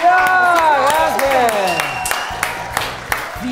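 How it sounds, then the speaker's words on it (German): A studio audience gives applause that swells under a voice talking over it, then thins to scattered individual claps toward the end. "die kriegen auch mal einen Applaus"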